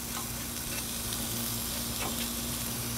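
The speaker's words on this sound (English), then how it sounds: "So I just went straight up egg on the Blackstone" Eggs frying on a Blackstone 22-inch griddle without oil or butter, a steady close sizzle with faint scraping ticks, alone with no talk.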